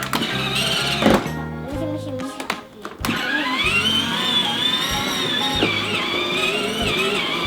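A child's toy ride-on motorcycle, the W298, drives along with a steady electric motor whine that rises and falls, broken by a few thunks and a brief drop near the start.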